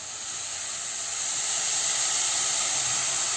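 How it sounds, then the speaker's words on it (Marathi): Heated water poured into a pan of coconut rice, giving a steady hiss and sizzle that swells slightly and holds, close and fairly loud with no talk. "त्यामध्ये आता आपण हे गरम केलेलं पाणी घालूया"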